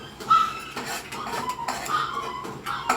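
A metal spoon clinks against dishes at a home dinner table, with a few light, scattered taps and scrapes over a quiet background.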